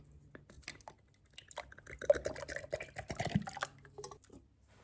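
A can of cream of coconut poured for a coquito, its thick liquid glugging and dripping in uneven bursts over a low steady hum, close by.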